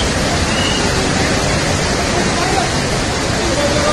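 Floodwater rushes after heavy rain on the Vaishno Devi pilgrimage route, a loud, constant roar of churning water close by with faint voices beneath.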